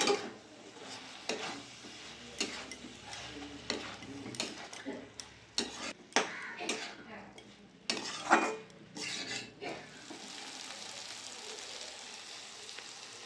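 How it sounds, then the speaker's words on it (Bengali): Fried small fish and chopped coriander stirred in a pan, a utensil scraping and clinking against the metal in irregular bursts over a soft sizzle, close and fairly quiet. "এখানে ভেজে রাখা মাছগুলো দিয়ে দেবো। দিয়ে দেবো ধনে পাতা কুচি। ভালো করে মিশিয়ে নেব।"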